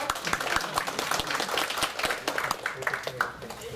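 An audience at a DrupalCamp Japan conference talk claps after a presentation, with a spread of quick, uneven hand claps and voices murmuring underneath.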